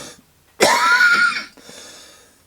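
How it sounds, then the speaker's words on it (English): A single person coughs and clears their throat in one loud, harsh burst lasting about a second. A quieter, breathy rasp trails off after it, set in an otherwise quiet indoor space. "I'm going to have cough again, I'm sorry."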